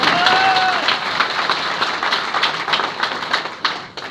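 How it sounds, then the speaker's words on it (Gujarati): A crowd applauds an elderly man, with loud, dense clapping that carries steadily for a few seconds before tapering slightly, along with a brief whistle near the start. "દાદા માટે જબરજસ્ત તાળી થઈ જાય"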